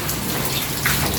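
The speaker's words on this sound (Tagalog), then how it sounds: "Ulan pa rin po." Steady rain hisses and patters on surfaces nearby, a dense, even wash of drops with no voices.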